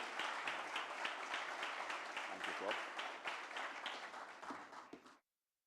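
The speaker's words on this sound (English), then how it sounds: "A round of applause for Mr." Lecture-hall audience clapping for a guest speaker at a public lecture series, a sustained round of many hands that tapers slightly before cutting off abruptly.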